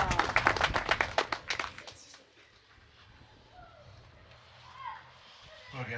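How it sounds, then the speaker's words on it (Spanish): Short burst of hand clapping from a small gathering at a birthday celebration in Rumichacha, Chuschi, brisk and close for about two seconds before fading into quiet room sound with faint voices. "vamos a recibir un aplauso en esta tarde"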